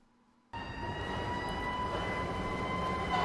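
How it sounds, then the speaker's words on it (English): A sudden rush of loud, continuous urban rumble with a steady mechanical hum and whine, like a subway train roaring through a station, in New York City. "That's the sound of the greatest comedy city in the world, New York City."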